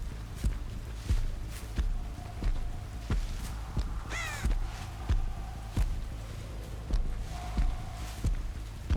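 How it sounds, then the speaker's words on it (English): Crows caw in a Dead by Daylight match, a brief burst of harsh calls in the middle over rhythmic footsteps and soft ambient game sound, no voices. "We saw crows over here."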